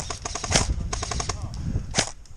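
Airsoft gun shots at an outdoor game site on a cold, windy day: sharp cracking pops in quick bursts, several close together early on and another pair near the end, fairly loud and near.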